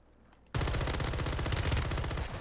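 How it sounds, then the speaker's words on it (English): Sustained rapid gunfire from a shooter video game bursts in suddenly after a brief quiet moment and stays loud and dense throughout, with no voices. "Right there where I'm shooting."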